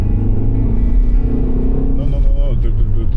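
A car newly bought by the speaker's brother, driving with a loud, steady engine rumble that holds throughout, as a voice speaks over it.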